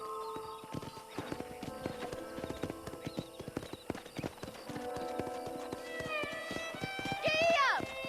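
Horse hooves clip-clop at a video game ranch in a close, steady trotting rhythm, ending with a loud whinny near the finish.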